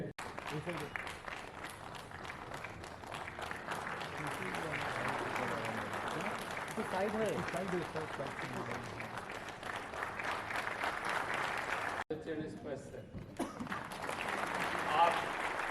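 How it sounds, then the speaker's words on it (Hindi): Loud, sustained applause from a crowd at a stage event, continuous clapping that dips briefly near the end before swelling again, with a voice speaking over it. "জোরে হাততালি।"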